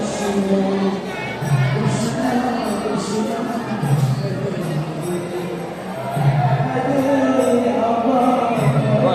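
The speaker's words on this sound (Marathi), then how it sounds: "गर्दी बघू शकता तुम्ही किती गर्दी आहे" Dense crowd murmur filling an ISKCON temple near the inner sanctum, a continuous mass of many voices, loud and close with someone talking over it.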